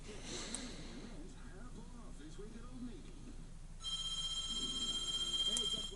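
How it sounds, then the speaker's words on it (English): A telephone rings inside a house, its electronic ringtone starting about two-thirds of the way in and trilling steadily to the end, over quiet breathing and low murmuring voices. "The phone is ringing at my house."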